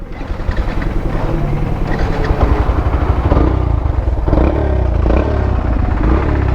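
A Yamaha FZ motorcycle engine runs loud and close with a rapid, steady throbbing rumble and mechanical clatter throughout, with no talk.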